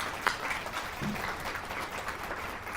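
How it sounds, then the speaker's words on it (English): Crowd applause at an award gala, a fairly soft but steady patter of many hands clapping throughout, with a brief louder clap near the start. "Give him a round of applause."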